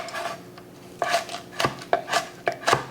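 Garlic and onion being chopped small with a knife on a board, a handful of sharp close knocks at an uneven pace that come more quickly toward the end.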